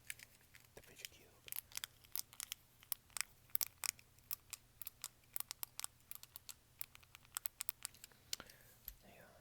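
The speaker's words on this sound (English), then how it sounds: "The fidget cube." Fidget cube buttons and switches clicked up close in a quiet ASMR setting, giving a steady stream of crisp, dry clicks, some quick and clustered, others spaced apart.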